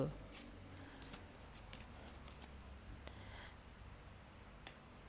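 Tarot cards being gathered up during a card reading: soft, quiet scattered flicks, slides and taps of cards close by, irregular and faint, with a steady low background hum throughout.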